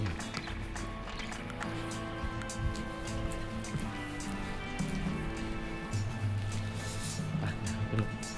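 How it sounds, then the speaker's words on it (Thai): Light drizzle patters steadily with faint scattered drops over a low background hum at a train station in Scandinavia, fairly quiet and even throughout. "ตอนนี้ฝนตก พรำๆ นะครับ"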